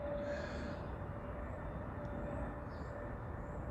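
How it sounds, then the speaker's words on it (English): American Airlines airplane passing overhead outdoors, a steady broad roar with a faint whine held throughout, fairly distant and unbroken, no talking. "Noise courtesy of American Airlines."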